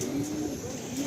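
Madrasi pigeons kept as running-flight birds give a quiet low coo, brief and faint against a soft background hum.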